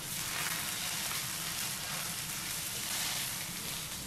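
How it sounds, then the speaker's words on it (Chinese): Hot oil poured over chopped chili, garlic and white sesame sets off a loud, dense, hissing sizzle that stays close and steady for several seconds with no voice. "油热后我们泼入到料头上"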